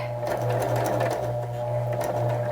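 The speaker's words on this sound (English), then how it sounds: "I'm gonna drop my needle down and do a few stitches forward, and then I'm gonna do a few stitches back" A sewing machine runs a quick burst of stitches forward and then back on a Christmas card project, giving a steady close mechanical whir with a rapid rhythmic needle clatter and a few soft clicks.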